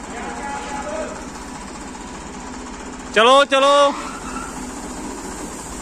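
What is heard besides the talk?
tractor engine running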